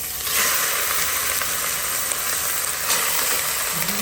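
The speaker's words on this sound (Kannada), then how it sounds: "ಅದಾದಮೇಲೆ you have to add your mutton." Mutton frying in a pan with onions and masala, a steady loud sizzle and hiss throughout with occasional stirring scrapes, close up and without talk.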